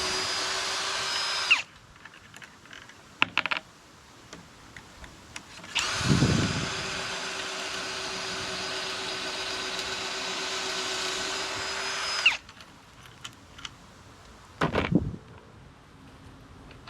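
Power drill boring pocket holes in wood for a square drop camper's wheel wells, outdoors in the shade; two long steady bursts of whirring, each several seconds, separated by quieter handling knocks and clicks.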